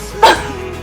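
A pet dog gives a single short, sharp bark, fairly close and loud, then the room settles back to a quiet background.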